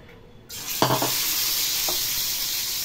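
Marinated chicken legs sizzling loudly in hot oil, a sudden steady frying hiss that begins after a quiet moment and continues throughout, with a couple of brief clinks of utensils near the start.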